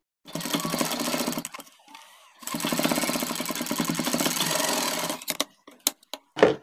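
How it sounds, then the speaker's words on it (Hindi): A foot-pedal sewing machine stitches a shirt cuff in two long, steady, rapid runs of clattering needle strokes separated by a brief pause, then a few short stop-start bursts close by. "अब हमें यहाँ से सिलाई लगा कर लाना है पैर की सिलाई"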